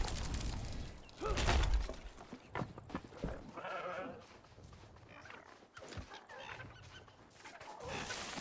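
Sheep in a video game bleat at close range several times amid clatter and other farm-animal noise, with someone talking over them throughout.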